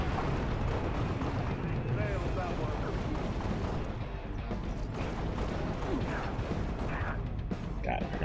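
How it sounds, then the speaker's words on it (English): Gunfire in the Halo Reach video game, with dense continuous battle noise and weapon fire under a busy soundscape, and voices talking over it. "Yeah, we're all taking fire, so."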